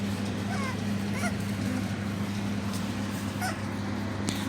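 Dogs whimpering on the other side of a door, heard as faint, scattered high whines over a constant low hum, muffled and distant.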